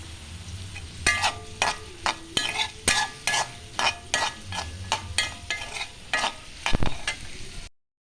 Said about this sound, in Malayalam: നമുക്ക് ലേശം ഉപ്പിട്ട് വഴറ്റാം.